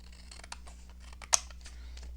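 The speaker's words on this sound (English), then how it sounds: "Just going to cut this." Scissors snipping paper to cut a base for a lace-covered postcard craft, with a rapid series of small close cuts and one sharper snap.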